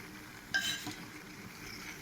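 Peas and cabbage being stirred in a frying pan, a faint low sizzle with one quick metallic clink and scrape of a spatula near the start, otherwise quiet and steady.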